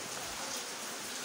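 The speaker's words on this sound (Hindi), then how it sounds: "ये देखें दोस्तों बड़ी तेज़ हो गई है बारिश" Heavy rain pours steadily during a storm in Allahabad, a dense, even hiss of falling drops that stays constant from start to finish with no other sounds.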